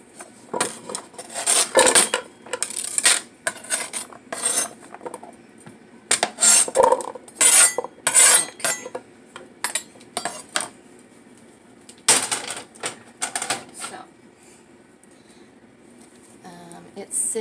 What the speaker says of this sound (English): Okay, so I'm going to add the butternut squash